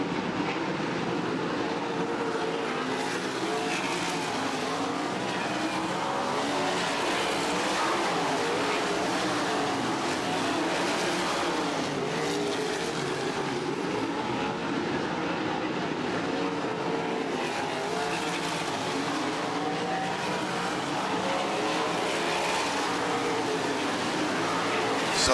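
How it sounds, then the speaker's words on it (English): Sprint cars in a World of Outlaws race roar continuously around the dirt oval at El Paso County Raceway as the field comes by, a dense, steady engine din with a commentator talking over it. "that's not the misters here at the Paso as leader comes by"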